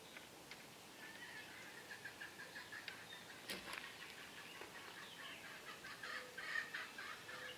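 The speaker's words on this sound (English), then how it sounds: "Don't mind my chickens, they're just happy." Backyard chickens cluck and squawk in a steady, busy outdoor chorus on a nice day, some calls rising louder near the end, with no talking over them.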